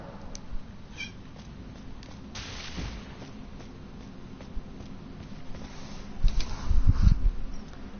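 A pet cat meows indoors, giving a few soft, scattered calls over a low steady room hum, with a louder burst toward the end.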